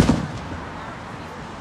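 Independence Day fireworks give one sharp burst at the start, followed by a rumbling fading echo, heard from a distance outdoors.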